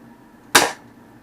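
A single sharp pop from a toy foam dart blaster firing one shot, close and brief with a quick decay, alone against quiet background.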